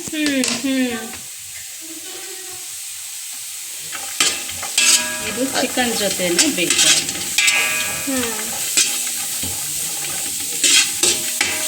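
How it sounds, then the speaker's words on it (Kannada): Onions sizzle and crackle in a dry pot with chicken pieces, cooked without oil, with steady frying hiss and stirring scrapes throughout while people talk over it. "ಆನಿಯನ್ ಪಾತ್ರೆಗೆ ಹಾಗೇನೆ ಹಾಕಿ ಫ್ರೈ ಮಾಡ್ಕೋತಾ ಇದ್ದಾರೆ"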